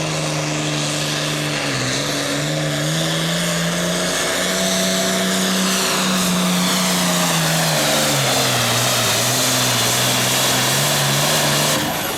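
A pulling tractor's powerful engine roars continuously at high revs while dragging a sled down a tractor pull track, its pitch rising and falling slightly, loud and close throughout with no voices.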